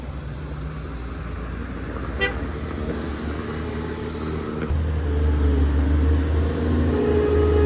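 A large truck on the winding, landslide-prone Sitinjau Lauik mountain road gives a steady low engine rumble that swells louder and heavier midway, with a brief horn toot early on and distant traffic noise beneath.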